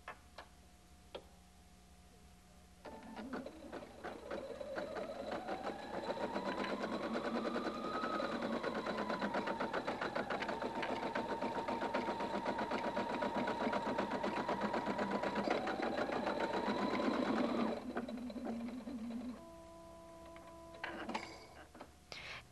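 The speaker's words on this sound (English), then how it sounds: "Touch Start Stop to sew Design 9 in the upper left corner of the standard hoop." A Husqvarna Viking Designer 1 sewing machine embroiders a design in a standard hoop, its steady motor hum and fast needle ticking running continuously for about fifteen seconds, starting and stopping cleanly, with brief beeps before and after.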